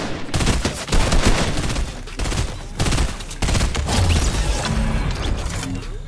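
Rapid gunfire from the Fortnite video game, triggered by an Alexa voice macro, rattles in loud, dense bursts. It breaks briefly twice, then resumes in nearly continuous volleys.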